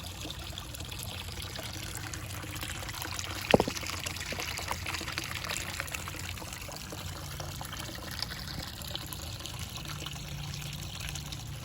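A Tetra WPG550 submersible pump moves water in a goldfish pond, giving a steady, soft trickling and pouring wash throughout, with one brief splash or knock near the start.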